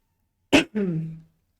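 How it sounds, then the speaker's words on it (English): A single sharp cough, followed by a short throat-clearing rasp, close by in an otherwise quiet room. "Excuse me so much for coughing."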